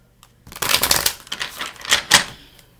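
Tarot cards being shuffled and pulled from the deck, a series of quick papery riffles and flicks, close and fairly loud, with brief pauses between bursts.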